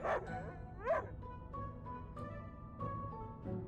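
A small dog named Pickles in the video game Reverse 1999 gives a few short yips and barks, with chiming tones and game sounds underneath at moderate loudness.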